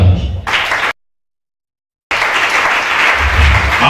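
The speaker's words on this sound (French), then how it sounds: "Acclamez ça là." A church congregation applauds during a sermon: loud sustained clapping, cut off by a second of dead silence, then resuming just as dense and loud.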